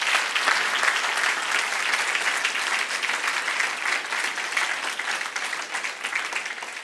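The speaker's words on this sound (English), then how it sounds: "So let's give them all a round of applause." Conference audience applauding, dense sustained clapping from many hands filling the room evenly for several seconds, fairly close and without talk over it.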